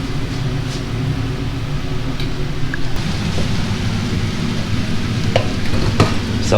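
Vegetables with flattened garlic cloves tossed and coated in oil in a home kitchen, giving a steady, close, continuous sizzling hiss with soft stirring scrapes and a few light clicks of a utensil.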